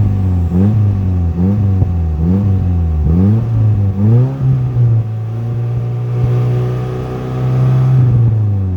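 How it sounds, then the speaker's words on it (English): A car engine with a blown turbo revs repeatedly in rising and falling bursts, then settles into a steady, rough idle with a loud, droning hum. "Pretty sure that's a blown turbo."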